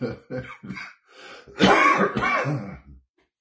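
A few short, husky coughs followed by a longer, rough throat clearing, close and fairly loud, with brief pauses between.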